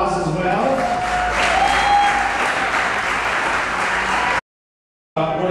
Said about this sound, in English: could you please stand up for a round of applause as well?